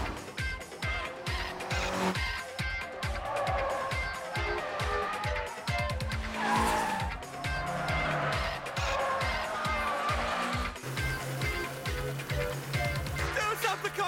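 Racing cars roar at high revs with tires squealing through corners, the engine drone rising and falling loudly and continuously throughout.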